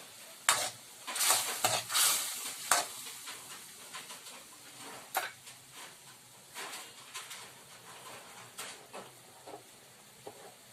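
Pancit canton noodles being stirred in a hot pan give a steady sizzle and hiss, broken by sharp scraping clatters of the utensil against the pan, loudest early on and then settling into softer frying with no one speaking.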